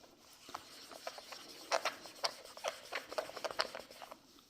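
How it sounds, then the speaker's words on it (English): Scrubbing at a printed plastic surface with rubbing alcohol makes a series of soft, uneven rasping rubs, close by and faint, with no talk. "No matter how much I'm scrubbing at this thing."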